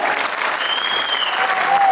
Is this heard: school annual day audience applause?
yes